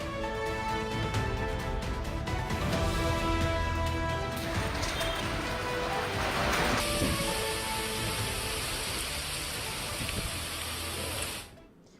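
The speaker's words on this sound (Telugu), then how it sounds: "అరగంట నుంచి నాన్ స్టాప్ గా వర్షం కురుస్తోంది." Heavy rain pours nonstop over Hyderabad, a steady dense hiss of downpour drumming on surfaces for the whole stretch before it cuts off abruptly.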